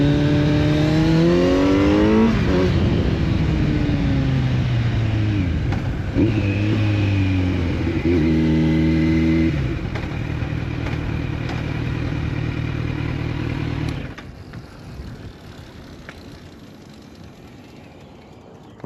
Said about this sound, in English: Kawasaki Z900.